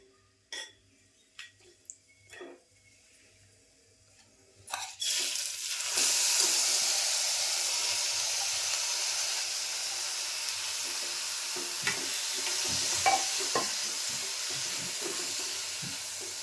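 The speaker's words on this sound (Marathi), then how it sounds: "तर आता ह्यातच आपल्याला ना परतून घ्यायचा आहे तांदूळसुद्धा" Rice sautéed in ghee in a pan: a few sharp clinks of the spatula against the pan, then a loud steady sizzle begins, with scraping stirring strokes and occasional taps over it, close up.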